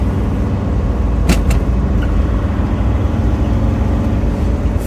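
A camper van climbs a hill on a Lake District mountain road, its engine producing a steady, close rumble inside the cab with road noise throughout and a couple of brief clicks.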